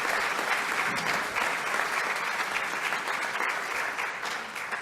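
Steady applause from an event audience fills the whole stretch, a dense continuous clatter of many hands at constant loudness with no voices over it.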